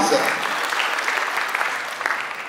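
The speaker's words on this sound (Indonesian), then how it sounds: "Beri tepuk tangan bagi Tuhan." A church congregation claps together in a steady wash of applause at a worship service. The clapping is dense and fairly loud and runs throughout, with a voice heard over it.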